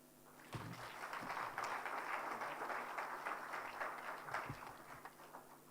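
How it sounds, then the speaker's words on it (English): An auditorium audience applauding after a speech at a plenary session, a dense, sustained burst of many hands clapping that swells in and holds steady for several seconds, a little distant. "So another round of applause for Professor."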